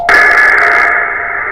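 TR45L radio receiver with no filter engaged, giving a loud, steady burst of hiss and hash with a strong tone underneath, lasting about a second before easing off.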